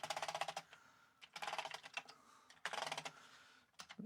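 Keys on a Commodore 64 keyboard are tapped in quick bursts after a keyboard repair, clicky clattering clusters of keystrokes separated by short pauses, close and alone.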